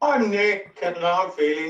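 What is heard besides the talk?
No everyday noises stand out.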